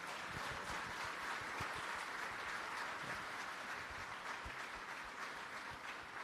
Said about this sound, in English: I would love to have a huge round of applause for my team here